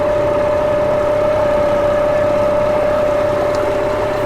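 Quiet outboard engine driving an inflatable catamaran under way, a steady low hum with a constant tone, unbroken for the whole stretch and with no voices.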